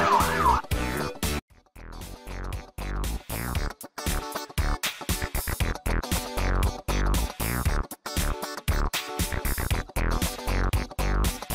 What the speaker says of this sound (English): Fire engine.